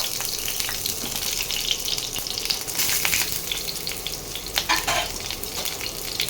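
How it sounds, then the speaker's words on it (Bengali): Pointed gourd (potol) pieces frying in hot oil give a steady, bright crackling sizzle with occasional stirring clatter, close and continuous throughout. "গরম হয়ে গেছে, এবার আস্তে আস্তে আমি পটলগুলো ছেড়ে দিলাম।"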